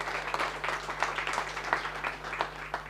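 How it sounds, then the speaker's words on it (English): Audience at a startup pitch event claps for a friendship app idea, moderate steady applause from a modest crowd over a low constant electrical hum. "So applause for Fred's idea."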